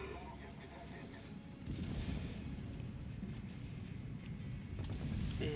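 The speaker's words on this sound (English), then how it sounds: "A lot of little 5-inch shells hitting this guy." Small 5-inch naval shells striking a ship in a naval battle video game, a dense rumbling barrage of booming impacts that swells louder partway through and keeps pounding steadily, with a voice talking underneath.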